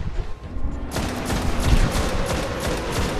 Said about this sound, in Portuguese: A minha sniper tá matando o Minotauro com 3 tiros